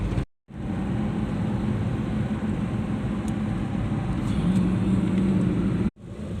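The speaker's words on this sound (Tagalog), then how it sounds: "Traffic, traffic." Steady road traffic drones on the Davao Cotabato Highway near Cotabato City, a constant low vehicle rumble heard as if from inside a car, with brief dropouts at the start and end and no talk.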